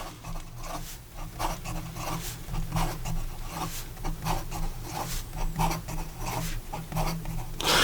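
A Wancher Dream Pen writes fast, giving soft, quick, rhythmic scratching strokes that repeat steadily at a faint, close level.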